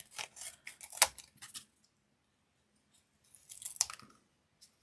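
Scissors cutting paper in long strokes, close and fairly quiet, a few crisp snips and slicing rasps in two bursts separated by a silent pause.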